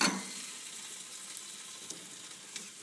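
Vegetables browning in a hot skillet give a steady, even sizzle that flares briefly at the start, then continues as a close, moderate hiss with a few faint pops and no voices.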